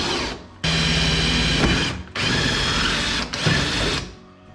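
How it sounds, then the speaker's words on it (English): A power drill bores a hole through the aluminum sidewall of a jon boat from the outside, running loud and steady in three long bursts separated by brief pauses, with no talking. "So one thing I'm gonna do different is drill from the outside in this time."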